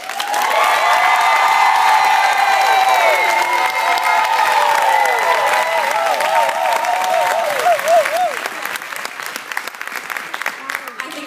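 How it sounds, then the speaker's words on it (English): A high school gospel choir concert audience claps loudly and continuously, with cheers and whoops rising over the dense applause before it thins toward the end. "I just want to give a very, very loud as we possibly can, round of applause so they can hear it all the way in there"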